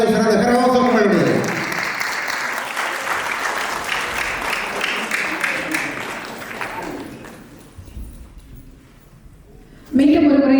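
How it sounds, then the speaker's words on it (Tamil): Audience applause fills an awards ceremony hall, steady and sustained for several seconds and fading toward the end. A voice speaks briefly at the start and again as the clapping dies away. "மீண்டும் ஒரு முறை சிறந்த கரகோஷம் கொள்வது"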